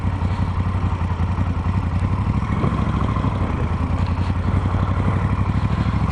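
A motorcycle rides along Route 66 near Winslow, its engine putting out a loud, steady throbbing rumble with rapid pulsing and some clatter, continuous and close throughout.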